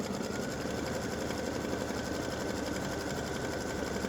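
An embroidery machine stitches a cut line onto a t-shirt for a side seam split dreidel applique design, producing a steady, rapid mechanical chatter that runs unbroken throughout.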